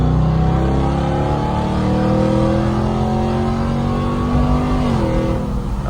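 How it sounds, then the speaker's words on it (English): A 2024 RAM 1500 TRX with a supercharged V8 revs hard under acceleration, its engine note climbing steadily in pitch with supercharger whine, dipping briefly near the end as it shifts, loud and close inside the truck. "that supercharger makes a beautiful noise"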